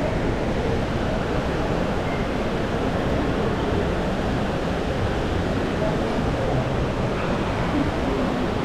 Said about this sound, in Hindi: वहाँ पर वाटरफॉल है, वो दिख रहा है वहाँ पर वाटरफॉल है